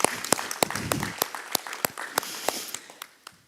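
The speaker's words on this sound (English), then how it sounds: "let's give them a round of applause and we'll have lunch" A sparse round of applause for presenters at a sustainability kick-off event: a small group clapping, with distinct sharp claps in an uneven rhythm that thin out and fade toward the end.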